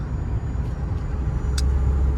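Old Volvo 240DL or Mercedes 300D cruising at 40 to 50 mph with the AC running, a steady low engine and road rumble heard from inside the cabin, with a brief faint click, no talk.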